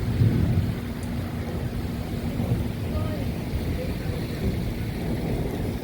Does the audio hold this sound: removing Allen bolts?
no